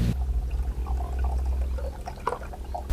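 Yogurt drink poured into soaked rice water, a steady liquid pour with gentle trickling and a few small splashes over a low background rumble, close and fairly loud for about three seconds.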